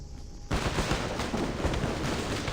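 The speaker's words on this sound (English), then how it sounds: "The sound of gunfire echoes from outside the courtyard." Gunfire rattles in the video game Reverse: 1999, a sudden dense burst of rapid shots that starts after a quiet half second and keeps going loud and continuous to the end.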